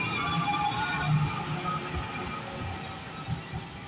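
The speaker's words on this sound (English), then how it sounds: "And then we got another train coming up here going the opposite direction." A metro train rolls into a station platform with a steady low rumble and hiss, wheels thumping faintly as it approaches, with no talk.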